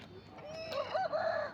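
A Kakinemili rooster of a Tamil Nadu breed crows once at a weekly livestock market in Galiveedu, a single long rising and wavering call, fairly close over a busy background hum.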